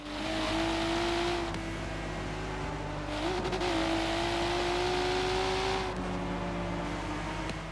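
A car engine in Forza Horizon 3 holds a steady cruising drone with slight pitch shifts and brief lifts in revs, continuous and fairly loud throughout with no talk over it.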